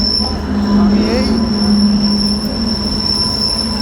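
A moving train at a station squeals loudly and steadily, its wheels grinding shrilly on the rails under a constant rumble; a voice is faintly audible.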